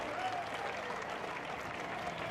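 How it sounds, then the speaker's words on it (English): Steady applause from a large outdoor parade crowd for baton twirlers and dancers, continuous and even throughout, with faint voices mixed into the clapping. "Give them a big round of applause."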